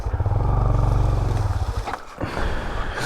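A Honda Grom ADV motorcycle engine labours loudly as the bike digs through rough off-road terrain, a steady low throbbing rumble that dips and sputters briefly near the end before picking back up.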